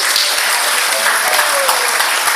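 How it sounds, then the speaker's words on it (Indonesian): A church congregation applauds loudly during a service, a dense, continuous roar of clapping from many people close by. "Kasih tepuk tangan yang meriah buat Tuhan Yesus."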